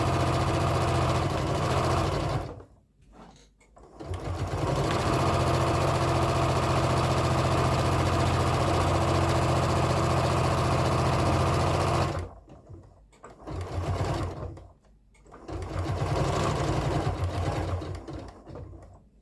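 A sewing machine stitches in long, steady, loud whirring runs, close by, broken by a few short pauses and brief restarts near the end.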